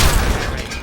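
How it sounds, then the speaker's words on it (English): Gun turrets fire in Fallout 3 as a loud, dense rumble of booming shots, strongest at the start and easing off over under a second. "I hear turrets."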